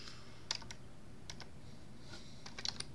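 Faint clicks of typing on a computer keyboard, a few scattered keystrokes and a short quick burst over a quiet background.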